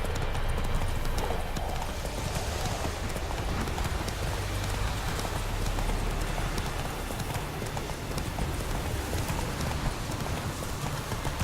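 Horse hooves clip-clop in a steady, brisk trot from the horse Roach in the video game The Witcher 3, dense and continuous over a full, busy outdoor ambience.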